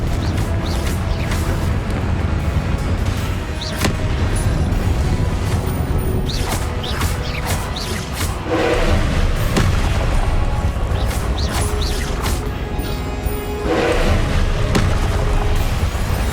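Repeated booming blasts of the Confringo explosion spell in Hogwarts Legacy, heavy thuds and crashes recurring every couple of seconds over a dense, rumbling game soundscape.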